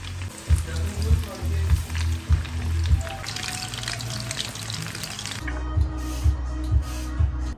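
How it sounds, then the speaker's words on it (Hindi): Coated chicken pieces frying in hot oil, a steady broadband sizzle with bursts of crackling and popping, fairly close, with low clattering thumps from kitchen handling throughout. "एक तरफ मैंने कोटेड चिकन को फ्राई करना शुरू कर दिया था"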